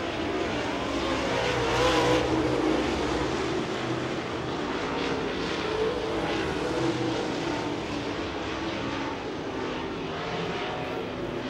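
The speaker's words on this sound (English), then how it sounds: "Todd Frank desperately trying to mash the throttle, get back into that transfer spot in the 21" Race car engines roar at a speedway in one continuous loud drone as cars pass on the track, and the engine pitch rises and falls a little without a break.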